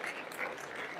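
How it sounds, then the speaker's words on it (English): Brief burst of clapping from an audience honouring a guest speaker after a religious talk, quiet and dense, with faint voices mixed into the applause. "let's have another round of applause for him"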